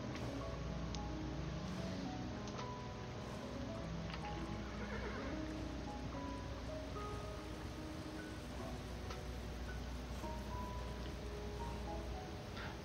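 A horse in the video game Kingdom neighs and clip-clops over a steady backdrop of rain and rustling ambience, with the horse sounds recurring across the stretch and no talking.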